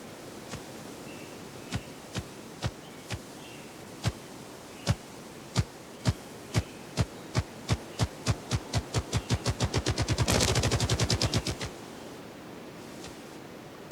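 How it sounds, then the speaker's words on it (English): Male ruffed grouse drumming in a forest, deep muffled thumps starting slow and spaced, then speeding up into a rapid whirring roll before cutting off, heard over a faint hiss with no voices. "The drumming sound carries through the trees to reach the female."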